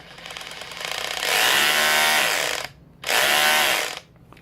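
A Bosch RHH181 brushless cordless rotary hammer drill whirs up loudly in two bursts, the motor pitch rising and settling as it runs under variable speed, with a short pause between.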